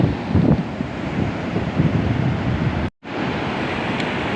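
Big ocean waves surge and roar onto the black-and-white sand shore of Dlodo Rejosari beach, a continuous loud wash with wind buffeting the microphone and a brief dropout near the end.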